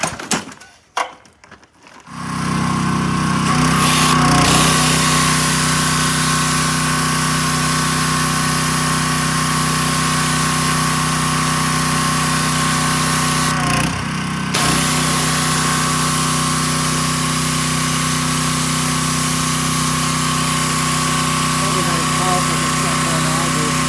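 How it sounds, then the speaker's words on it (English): A pressure washer engine, used with an undercarriage attachment to clean beneath a Wanderlodge bus, starts up after a couple of seconds of handling noise and then drones loudly and continuously nearby. "the pressure washer did a really good job"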